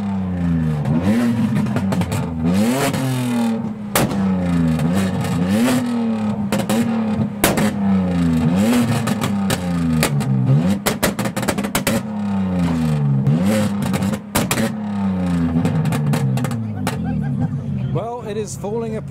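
A BMW at a car meet revs hard again and again, throwing flames that damage its bumper, each loud, close rev rising and falling in a repeating pattern amid crowd chatter and sharp pops.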